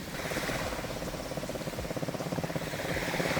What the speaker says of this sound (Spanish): Pero ya viene la moto.